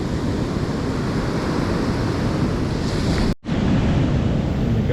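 Sea surf breaks steadily on a shore after a storm, a loud continuous wash of waves with wind rumbling against the microphone, cut by a brief dropout near the end.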